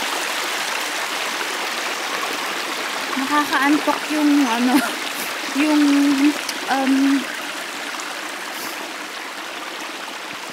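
A clear stream flows over rocks with a steady, full rushing wash throughout, and a voice talks over the water in the middle stretch.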